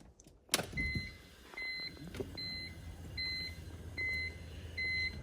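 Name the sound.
BMW E46 power window regulator motor running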